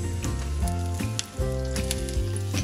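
Boiled eggs coated in orange butter batter (tokneneng) fry in oil previously used for lumpia, giving a close, continuous sizzle with bright crackles over a low droning background; no speech.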